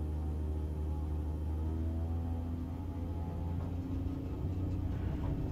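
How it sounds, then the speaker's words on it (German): An Extra 330 aerobatic plane rolls along a runway, its engine giving a steady, loud, low droning hum that holds even throughout, with no talking. "Bremse los und erstmal ein bisschen anrollen."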